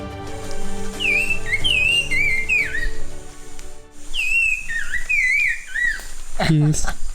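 Nava's wren singing in the Chimalapas rainforest of Oaxaca, a series of clear whistled rising and falling phrases in two bursts, fairly close, over a steady hum of insects and forest ambience.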